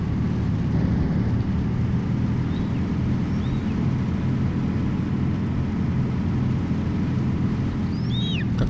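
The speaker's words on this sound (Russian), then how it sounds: "Как-то даже дождь звучит странно. Он шипит просто вот." Steady hissing rain in the trucking game 18 Wheels of Steel: Extreme Trucker, a constant broadband wash over a deep low engine rumble, with a couple of faint high chirps near the end.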